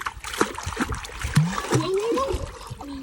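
Water splashes at Davis Lake during a family camping trip, with scattered sloshes and splatters close by and trickling in between. Voices talk and call out over the splashing.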